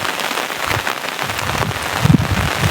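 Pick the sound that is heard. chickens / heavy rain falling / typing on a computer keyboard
heavy rain falling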